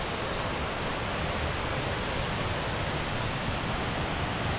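A waterfall at a rainforest eco park roars as a dense, even rush of water, loud, close and unchanging throughout, with no voices.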